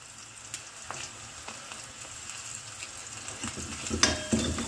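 Dried red chillies, torn in half, sizzle in hot oil for a Kerala moru curry (pulissery), with a steady soft crackle, a few sharper pops and a louder burst of spitting near the end.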